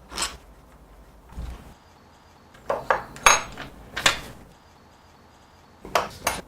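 Metal tools clink and rattle as a screwdriver socket set undoes the brake caliper nuts on a trials bike's front disc brake, a series of short sharp metallic knocks and taps spaced irregularly, close and fairly loud in a quiet room.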